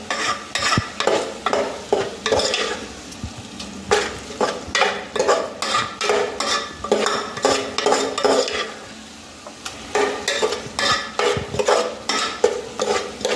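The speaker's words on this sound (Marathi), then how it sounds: "त्याकरता 1-2 मिनिटं सर्व जिन्नस एकजीव करून घ्यायचं" Tomato rice ingredients being stirred together in a cooking pan, with close, steady, rhythmic scraping strokes and a light sizzle underneath, no talking.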